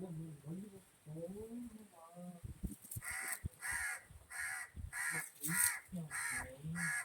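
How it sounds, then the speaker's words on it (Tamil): Crows caw repeatedly in short harsh bursts as they gather for food put out outdoors, moderately near, and a person talks in the first few seconds before the calls begin. "பாருங்க என் காக்கா வந்து இந்த சாப்பாடு எப்பவுமே நான் இதில் தான் வைப்பேன் இப்போ வருவாங்க"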